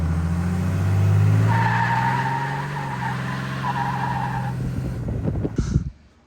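A RAM 3500 Cummins diesel truck with a 68RFE transmission drives hard, its engine droning loud and close while a long, high tire squeal holds for several seconds, then fades into a rough rumble before cutting off.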